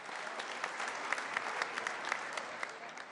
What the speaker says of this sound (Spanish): uma salva de palmas pela unidade.